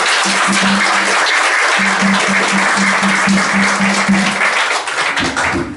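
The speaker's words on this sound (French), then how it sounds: "Je vous demande de les applaudir." A church congregation claps together during a Sunday worship service, sustained and dense, loud and close throughout with a faint tone beneath, tapering slightly near the end.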